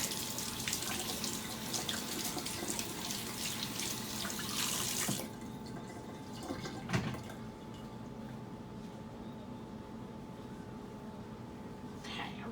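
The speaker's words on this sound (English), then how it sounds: "Wash my hands real quick." Tap water runs steadily while hands are washed at a kitchen sink, a broadband gush for about five seconds that then cuts off, leaving quiet room tone with a faint clunk and soft movement.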